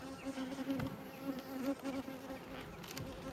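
Honeybees buzzing steadily around an open hive during an inspection, a close, continuous droning hum with a few louder passes as individual bees fly near.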